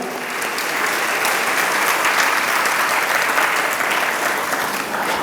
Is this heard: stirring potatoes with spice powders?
no